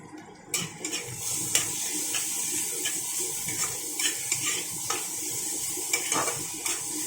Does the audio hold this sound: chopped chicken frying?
yes